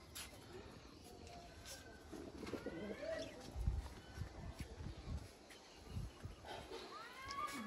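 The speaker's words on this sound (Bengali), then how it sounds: "আমার আসলে শখ করেই কবুতর পালা" Pet pigeons coo softly in low, repeated throaty calls close to the microphone, with other birds chirping faintly and some quiet background voices.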